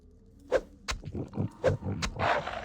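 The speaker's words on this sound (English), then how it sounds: "Dang, how many wolves are there?" Wolves in the video game Avadon 2 growl and snarl in a rough, overlapping pack, with several loud bursts over a steady rumble.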